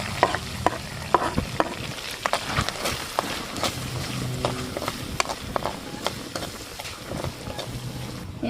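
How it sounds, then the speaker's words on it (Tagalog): Garlic sautés in a pan for buttered garlic chicken, sizzling steadily with frequent sharp scraping and stirring clicks of a utensil against the pan, close and fairly loud. "igisa pa natin yung ating bawang"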